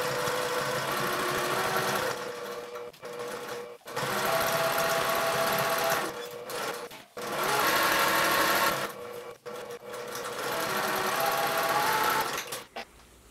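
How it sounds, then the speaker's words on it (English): Sewing machine top stitching around the sides and curved bottom edge of a fabric bag strap, running in several loud sustained bursts separated by brief pauses. "take this over to your sewing machine and top stitch around the sides and the bottom curved edge"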